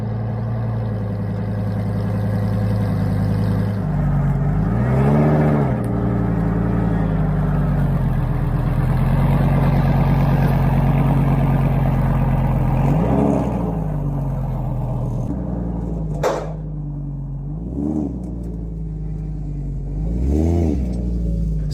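A car engine revving and accelerating up close as the vehicle is driven off a trailer, with several distinct rising revs over a steady low rumble and no talk.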